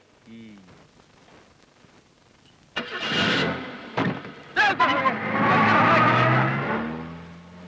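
A vehicle engine cranks and catches after a brief quiet stretch, turning over with a couple of sputters before settling into a steady, loud idle, with voices heard earlier.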